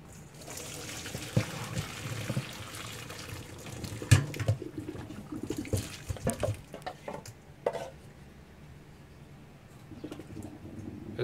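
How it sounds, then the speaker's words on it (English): Water drained off boiled potatoes in a home kitchen, a run of splashing, trickling and clattering pot sounds for several seconds, then quieter dribbling toward the end, with no talk. "Now I'm gonna drain off the water and let it cool down."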